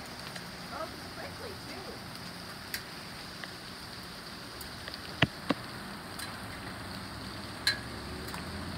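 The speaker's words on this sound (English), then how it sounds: "Jeez, it's still hailing." Hail falling outdoors, a steady faint patter of stones striking surfaces with a few sharper distinct hits standing out, no voices.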